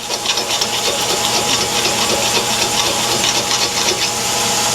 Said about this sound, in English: So I just take a file real quick.